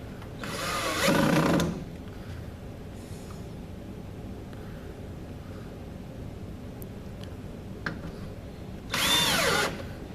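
A power drill drives two screws back into a clip on an ES1000 heater unit, two short loud whirring bursts at the start and end separated by a quiet stretch of faint handling.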